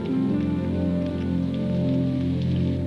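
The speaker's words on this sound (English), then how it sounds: "there were bursts of rain that seemed determined to come through the tents" Steady rain patters on tents, a dense continuous hiss with a low background hum, no voices.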